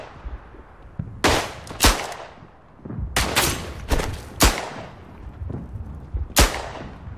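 Gunfire rings out in the World War I shooter game Verdun as loud, sharp rifle cracks in irregular bursts, several close together, with rumbling echoes and distant shots between them.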